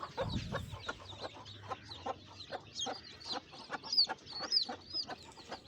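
Hens that have just hatched chicks cluck close by in a rapid, uneven series, with higher chirps mixed in.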